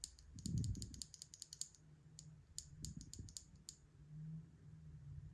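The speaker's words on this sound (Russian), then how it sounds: "Переключатели у нас не громкие, это значит то, что вместе с ними мы получаем довольно тихую механику." Typing on a quiet custom wireless mechanical gaming keyboard built on a Monsgeek MG75 base: quick bursts of soft, close key clicks separated by short pauses, over a low steady hum.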